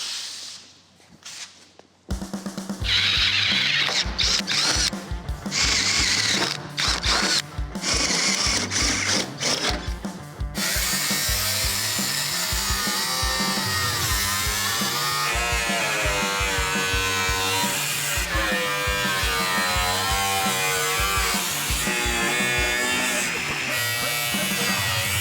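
A power tool grinds and trims metal on a classic Camaro build. Short, choppy buzzing bursts with pauses come first, then a long, steady, close-up whine that keeps shifting in pitch.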